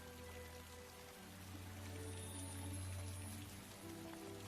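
Steady rain in an animated film falls as a dense, even hiss with a low rumble beneath, continuous throughout and moderately quiet, with no voices.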